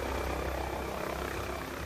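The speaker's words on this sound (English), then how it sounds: "A medical helicopter lands amid the chaos in New Palace Yard." Medical helicopter landing amid chaos in New Palace Yard, a steady loud whirring roar of rotor and engine filling the air close by, with no talk over it.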